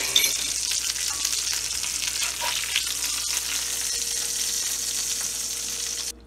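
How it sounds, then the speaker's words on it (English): Meatballs cook in red tomato sauce in a pot, giving a steady, fairly quiet bubbling sizzle that continues evenly throughout with no talking. "So I'll let them finish cooking in the sauce."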